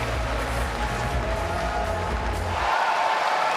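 A tennis crowd at the WTA Finals 2015 cheers and applauds steadily between points, a broad wash of clapping and voices that thins out near the end.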